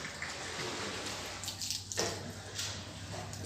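Water splashes and trickles from a tap as a face is washed during wudu ablution before prayer at a mosque, a faint, close, irregular sequence with a brief louder splash midway.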